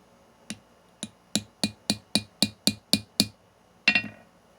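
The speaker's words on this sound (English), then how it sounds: "Just giving it a few taps, flip to the other side. Just to get the flare going." A hammer taps a tube rivet to start flaring it, making about ten sharp, light metallic ticks in an even rhythm that grow slightly louder, followed after a pause by a final double strike.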